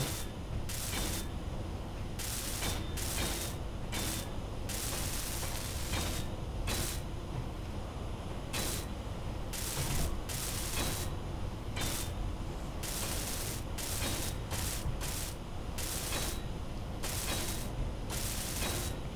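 Space-building video game welding, heard as repeated bursts of hissing, spraying noise with mechanical ratcheting and gear-like clatter, starting and stopping in an irregular rhythm over a steady low hum, loud and close with no voices.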